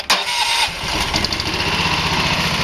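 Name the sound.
small engine starting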